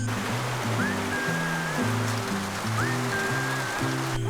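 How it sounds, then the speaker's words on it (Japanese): A rainy-season tropical squall falls at evening in an Ifugao village among the rice terraces of Banaue, Philippines, its steady, even hiss of rain running under soft background music. "6月は雨季、毎日のようにスコールが降ります。"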